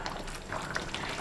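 Paneer butter masala gravy bubbles in a pan on the stove, a steady close simmering hiss and popping that continues without a break and with no talking.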